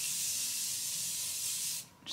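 A jumbo bottle of Morphe Continuous Setting Spray gives a close, steady hiss of mist that lasts almost two seconds and stops abruptly, with no talking over it.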